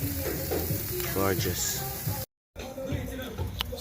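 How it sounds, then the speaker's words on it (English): Festival dough frying in a pan outdoors at a Jamaican jerk cookout, with a steady loud sizzle and some stirring while someone speaks briefly over it. "See, guys, frying the festival."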